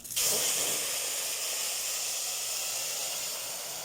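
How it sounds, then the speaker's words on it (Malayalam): A sudden loud hiss as boiling water is poured into a hot pan of rice for ghee rice, settling into steady steaming sizzle that slowly fades. "തിളച്ച വെള്ളം ഒഴിക്കുക"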